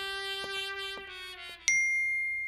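A phone's message notification tone rings in a scene from a Hindi horror film. Sustained electronic tones end in one bright, clear ding that fades slowly, heard alone with no talking.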